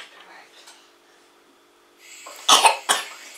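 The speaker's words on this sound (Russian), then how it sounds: "Не кашляйте." A person eating buttermilk pancakes coughs a few times, two or three sharp close bursts near the end after a quieter stretch of faint breathing and background sound.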